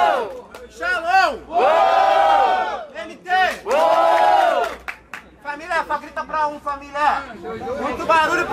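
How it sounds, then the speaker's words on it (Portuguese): A crowd at a Brazilian freestyle rap battle roars, shouts and cheers loudly in repeated waves, with an MC's amplified voice hyping them between the surges. "Vai, barulho! Muito barulho pro primeiro round!"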